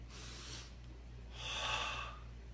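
A deep breath drawn in and blown out during a meditation breathing exercise, two broad airy breaths close to the mic over a steady low hum, the second longer and louder.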